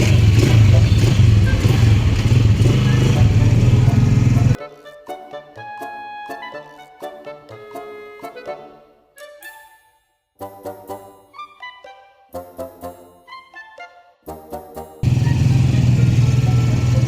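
Road traffic with motorcycles on a trip through a busy town: loud, continuous engine rumble at the start and end, broken by a stretch of music in between.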